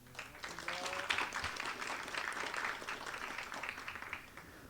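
An audience at a city development public forum in Gwacheon applauds to welcome arriving dignitaries, a steady, faint patter of clapping from a hall heard at a distance, with a murmur of voices underneath.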